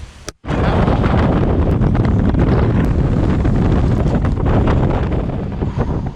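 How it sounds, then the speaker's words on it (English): Strong wind roars and buffets the microphone continuously on a Minnesota lake, a loud, rumbling blast that barely lets up after a brief quiet moment at the start. "it is super windy out"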